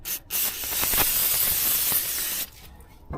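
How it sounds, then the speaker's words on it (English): Brake cleaner sprayed onto the brakes of a Mercedes E350 W212 during a pad and rotor replacement, a loud close aerosol hiss running steadily for about two seconds before cutting off. "I'm going to clean it with a brake cleaner now."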